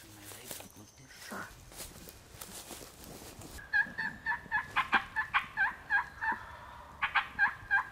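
Wild turkey gobbling repeatedly during a Pennsylvania youth-day spring turkey hunt, a rapid series of rattling calls at moderate distance, following an opening stretch of quiet whispered talk and rustling.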